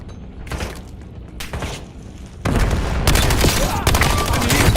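Video game combat with a grenade blast and bursts of gunfire, loud and dense: separate thumps early on, then a heavy explosion and sustained rapid shooting that fills the rest of the stretch.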